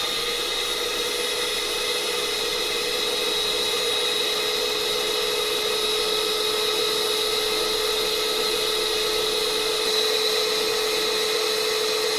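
Electric blender whirring steadily while mixing fragrance into coconut oil soap, a constant high-pitched motor drone with no pauses.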